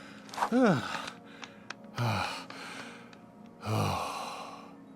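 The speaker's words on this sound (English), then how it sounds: "you heard Woody breathing over there and, you know, getting tuckered out" Heavy, exaggerated breaths and gasps in short bursts, a few strained sighs, close and fairly loud, like a tired character panting; Woody in Kingdom Hearts III.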